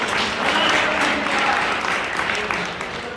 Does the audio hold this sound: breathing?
no